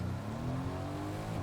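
A car engine hums and rises in pitch in the Fortnite video game, a steady, moderately quiet motor drone with a climbing tone and no voices.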